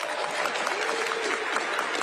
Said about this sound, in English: please join me in a round of applause for our Deputy Mayors for Housing and Planning